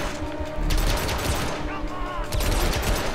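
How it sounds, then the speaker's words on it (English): Rapid gunfire in the video game Hitman Absolution, a dense fusillade of shots and mechanical clatter filling the whole stretch, with a voice talking underneath. "I gotta go guns blazing now."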